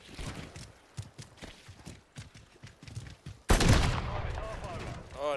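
Sniper rifle gunshots in a video game, a run of sharp close shots and thumps in uneven rhythm, followed by a sudden loud burst with a voice talking over it.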